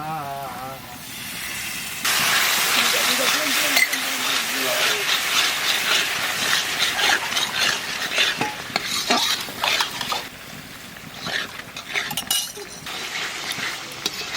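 Sour curd tipped into a hot pan of cooked-down spice paste, setting off a loud sustained sizzle and hiss with stirring and clinks of the utensil against the pan, and a voice briefly talking.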